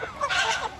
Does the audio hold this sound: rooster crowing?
yes